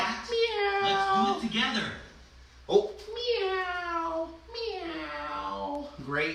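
Several voices, including a child's, imitate a cat's meow in a few drawn-out, rising and falling calls, close and clear, during a parent-child class.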